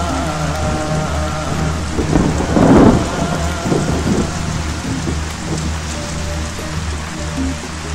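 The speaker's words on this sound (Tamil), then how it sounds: "என்னப்பா இவ்வளவு மழை பெய்யுது?" Heavy rain pours steadily throughout, with a roll of thunder swelling to a loud peak near the middle before easing back into the constant downpour; no one speaks.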